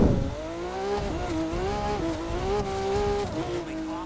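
A Porsche racing in The Crew 2, its engine droning and shifting pitch as it accelerates and lifts, with a tire squeal at the start. The sound is steady and close, with no talking.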